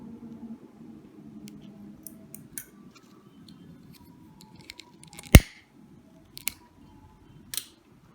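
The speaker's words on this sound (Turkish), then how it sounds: "fazlalık lisinamı kesiyorum" Scissors snip through excess nylon bead thread while a crystal bracelet is being made, producing a few sharp, close clicks, one louder cut standing out, with quiet handling noise between.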